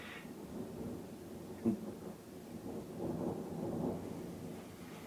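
Distant thunder rumbles low and faint outdoors, swelling in a long roll with a brief sharper crack partway through.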